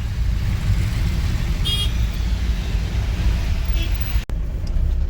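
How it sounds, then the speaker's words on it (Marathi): Heavy road traffic near a Mahalakshmi temple fair: a dense, steady roar of engines and tyres close by, with a brief horn toot and a sharp click near the end. "4 ओटी ब्रिजपासून तर महालक्ष्मी यात्रेपर्यंत भरपूर ट्रॅफिक गर्दी आहे."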